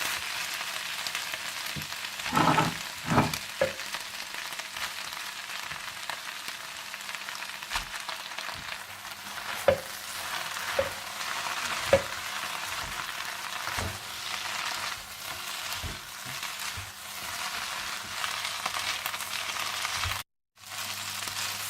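Boiled egg noodles tossed with chicken in a pan for chicken chow mein, giving a steady low sizzle with intermittent scraping and clattering stir strokes, alone without talk, then a brief drop to silence near the end.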